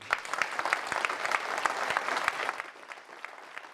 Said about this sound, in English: that was the applause she got for saying, I am the new leader and we go in a different direction